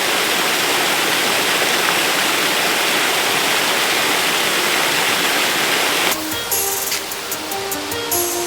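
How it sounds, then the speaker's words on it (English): A forest waterfall in Pennsylvania's Loyalsock State Forest rushes in a loud, steady broadband roar, then gives way to quieter music toward the end. "hopefully there's some nice waterfalls down here for us to go see"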